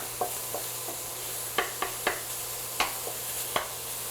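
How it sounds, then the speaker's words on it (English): Sausage cooks in a pan on a stovetop, a low steady sizzle with a series of sharp spoon taps and scrapes at uneven intervals, close and without talk. "a lot of the sausage is already cooking through because you see it"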